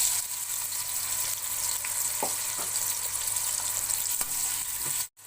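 Chopped tomatoes fry in hot cooking oil with a continuous bright sizzle, steady and close, punctuated by a few soft stirring clicks and ending abruptly.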